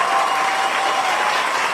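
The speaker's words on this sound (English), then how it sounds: "Give him a round of applause" A crowd claps and applauds steadily for a guest at a boxing-related live show, a dense even wash of clapping with no voices over it.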